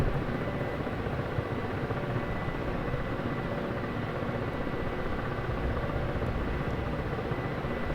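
Military helicopter rotor and turbine sound during a tank gunfire exercise, a steady dense roar that stays constant and close throughout, with no clear gunshots standing out.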